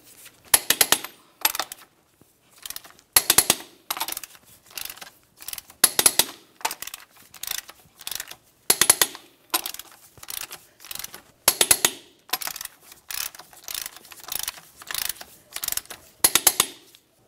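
Ratcheting clicks from a wrench tightening lug nuts on a 2000-2006 Chevrolet Tahoe wheel, a series of short bursts of clicking with pauses between them, close and clear with no talking.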